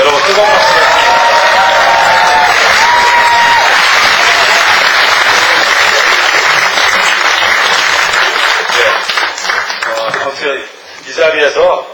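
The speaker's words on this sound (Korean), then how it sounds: "여러분 뜨거운 박수 부탁드립니다." Audience at a book concert applauding and cheering as the host is introduced, loud dense clapping with voices rising through it, holding strong before thinning into a few scattered claps near the end.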